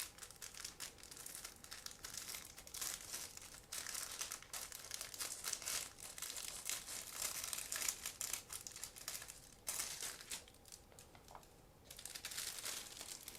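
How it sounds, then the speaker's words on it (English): Scissors cut open a sealed plastic bag: continuous crinkling and crackling of plastic with sharp snips and rustles throughout, close and fairly quiet, no talking. "So this is a sealed plastic bag. I'm going to use scissors in order to open it."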